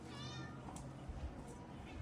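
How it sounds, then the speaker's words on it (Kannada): A cat gives a clear, drawn-out meow near the start, followed by quieter household sounds and soft background voices at low volume. "ಏನ್ ಮಿಯಾವ್ ಏನ್ ಮಿಯಾವ್"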